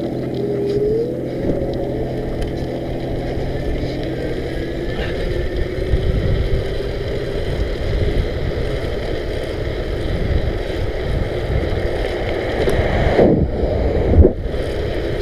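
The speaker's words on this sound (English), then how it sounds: "That's me pedaling it with the motor activated setup going on." An Ancheer electric mountain bike's motor runs in high mode and top gear while pedaling at about 20 mph. A steady mechanical whine sits under heavy wind rush, with a brief clatter near the end.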